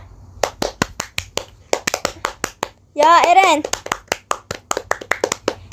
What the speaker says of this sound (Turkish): Alkışla.